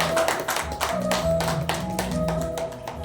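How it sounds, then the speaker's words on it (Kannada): Audience applause at a singing festival and award ceremony in Bengaluru, a steady run of many hands clapping throughout, fairly loud and continuous with no speech over it. "ಎಲ್ಲರೂ ಚಪ್ಪಾಳೆ ಹೊಡೆದ್ರೆ ತುಂಬ ಖುಷಿ ಆಗುತ್ತೆ."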